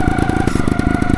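A Raga Replica trial motorcycle engine fires up, its rapid, choppy exhaust pulses clattering close and loud in a garage, with a steady whine running underneath the brief burst.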